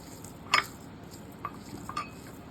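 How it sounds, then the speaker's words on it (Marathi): Paneer being smashed in a bowl, a few short soft knocks and scrapes of a utensil against the bowl, close and sparse in a quiet room. "पनीर घेतलं होतं ते थोडंसं स्मॅश करून घेते"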